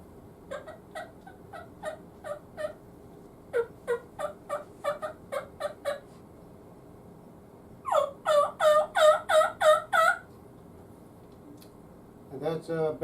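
A latex game call imitating turkeys feeding: a series of short clucks and yelps in quick uneven bursts, then a denser run of louder calls, fairly close with a quiet background.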